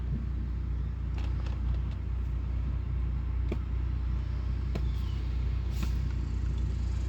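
A Class A truck idles and creeps through a DMV CDL basic maneuvers test, a steady low engine rumble running throughout with a few faint clicks and knocks above it, no talk.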